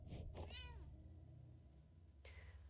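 A cat meows in the video game Impostor Factory. A couple of short, close meows come over a low game background, with a faint trailing call near the end.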